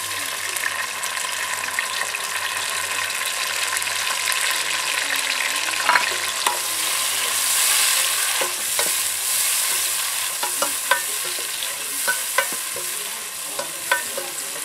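Tomatoes are stirred into biryani masala frying in a pan, giving a steady sizzle with scraping stir strokes close by, briefly louder as they go in, with no talking over it.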